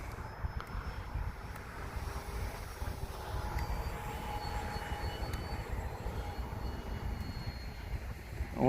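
A radio-controlled plane makes a flying pass, its engine a steady, fairly distant drone with wind buffeting the microphone throughout.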